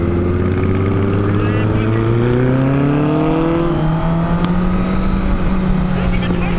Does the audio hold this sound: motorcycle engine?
yes